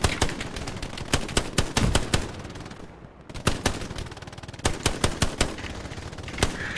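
Rapid machine gun bursts and rifle gunfire in a video game firefight, loud and dense, with repeated sharp shots and a brief lull near the middle before shooting resumes.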